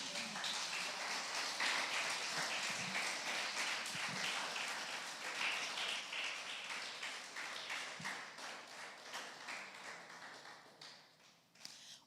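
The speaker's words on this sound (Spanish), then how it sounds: "Vamos a darle una ofrenda de palmas." A church congregation claps together, bright, sustained applause with rapid overlapping claps that slowly fades toward the end.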